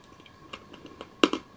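A hard candy with a liquid-filled centre is crunched between the teeth, giving two sharp, close cracking bursts after a stretch of quiet, soft mouth sounds.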